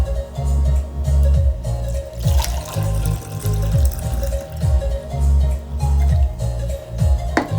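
Water poured repeatedly from one glass into another, a run of splashing, gurgling pours with short pauses between, close and fairly loud with no talking.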